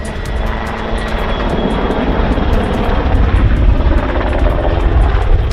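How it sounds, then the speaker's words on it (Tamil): Loud, continuous roar of helicopters and airplanes passing overhead at an air show, a dense mechanical drone with no voices. "ஹெலிகாப்டர்களும் விமானங்களும் வானில் தள்ளாடுவது போன்ற சாகசத்தை கண்டு பார்வையாளர்கள் மெய் சிலிர்த்தனர்"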